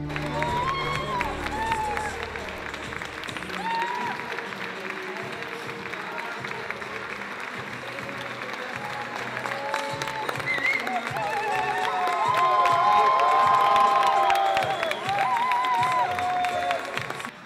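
Graduation crowd applauding and cheering as students collect diplomas, a continuous wash of clapping with scattered whistles and shouts that swells louder toward the end.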